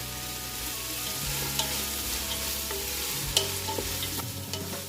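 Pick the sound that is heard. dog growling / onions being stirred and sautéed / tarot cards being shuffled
onions being stirred and sautéed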